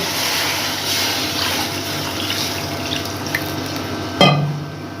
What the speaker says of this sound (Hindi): अब इसके अंदर हम पानी डालेंगे